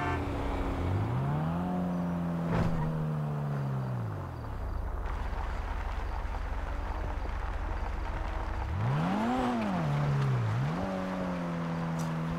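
A car's engine in GTA V revs hard and drops back, then surges and dips again, loud and close, with a quieter idling lull partway through. The car is driven on dirt.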